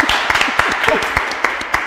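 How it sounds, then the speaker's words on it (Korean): A studio audience at a church talk show claps briefly, a short burst of scattered applause mixed with voices and light laughter over the top. "박수 좀 쳐요."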